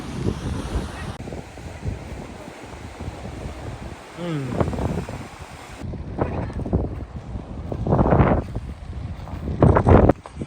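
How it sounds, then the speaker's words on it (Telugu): Heavy wind buffets the microphone in loud rumbling gusts, with a voice talking underneath and surf faintly in the background, at Gangavaram Beach in Vizag. "ఇప్పుడు ప్రజెంట్ అయితే మనకి గాలి వల్ల వాయిస్ సరిగ్గా రాకపోవచ్చు"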